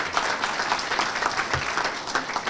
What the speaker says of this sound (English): So let's give him a round of applause as well.